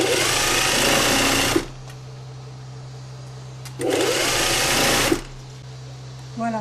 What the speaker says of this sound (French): Là je surfile la couture de l'entrejambe.